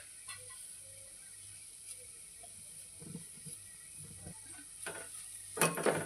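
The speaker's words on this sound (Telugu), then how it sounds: "ఇలా బాగా కలుపుకొని మళ్ళీ ఒక 10 నిమిషాల పాటు ఫ్రై చేసుకోవాలి" Egg curry masala with turmeric, ginger-garlic paste and salt sizzles quietly in a pan while being stirred, with soft scraping and clinks scattered through and a louder clatter of the spoon near the end.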